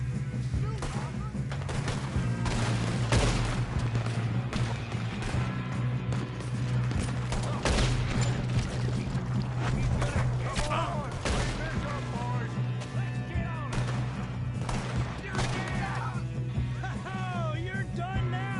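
A Red Dead Redemption 2 shootout, with dense, repeated gunshots and rapid volleys cracking throughout while voices shout and talk over the firing.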